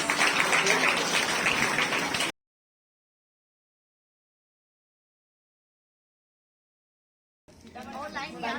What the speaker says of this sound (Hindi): इसके साथ ही फिर से जोरदार तालियां फ्रेंड्स।